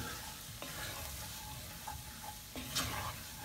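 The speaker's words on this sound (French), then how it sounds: "Et je touille." Octopus pieces dusted with flour being stirred in a hot pan, a steady close sizzle and frying hiss with a few soft scrapes and knocks of the utensil against the pan.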